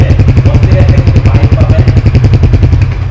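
A 2024 Honda NSX 165R motorcycle engine idling close by, loud with a fast, even pulsing throb throughout.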